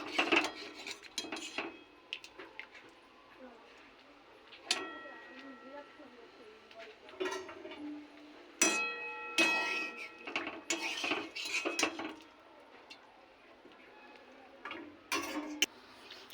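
Steamed cauliflower being lifted from a pot with metal utensils, making close, intermittent clinks, clanks and scrapes against the pot in bursts.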